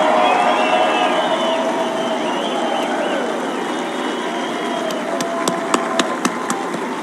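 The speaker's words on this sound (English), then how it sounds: "Would you give them a round of applause?" An outdoor crowd at the 2020 Independence Day event at Mount Rushmore applauds veterans with a sustained wash of clapping and cheering, whistles weaving through, and a few sharper claps standing out near the end.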